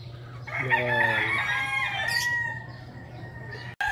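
A rooster crows once, loud and close, at a small backyard poultry farm in Rosario, Batangas, with clucking chickens and a low steady hum underneath.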